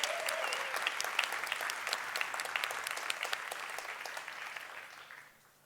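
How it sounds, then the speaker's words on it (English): Steady audience applause fills a hall during an alumni segment of the Invent 2021 Awards ceremony, holding even for about five seconds before tapering off at the end. "Can we just have a final round of applause for our alumni?"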